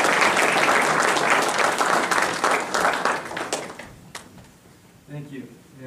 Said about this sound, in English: Please welcome Mr. Fonesca with a warm round of applause.